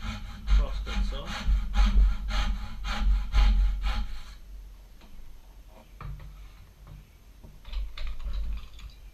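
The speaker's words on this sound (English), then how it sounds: "Cutting into the end grain here, so this is actually a rip cut." A small dovetail saw rips along the end grain of wood with quick rhythmic strokes for about four seconds, followed by quieter scraping and handling sounds, close up with a voice speaking at times.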